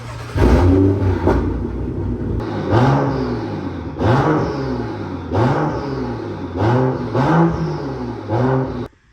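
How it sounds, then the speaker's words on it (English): A BMW F10 535i with a burble tune revs repeatedly, five or six loud, close blips rising and falling in a steady rhythm, with crackling burbles between the revs. "Let me give you guys a few rev clips."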